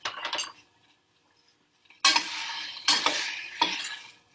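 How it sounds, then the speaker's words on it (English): A spoon stirs blueberries in a pot over a medium-high burner. It makes close, scraping clatter in bursts: one brief flurry, a quiet pause, then three stronger runs of stirring. "And I just kind of keep stirring."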